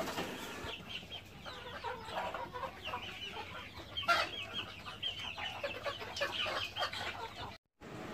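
Several free-range native Bengali hens cluck and chatter nearby, a busy overlapping stream of short calls over faint background noise, with a brief pause near the end.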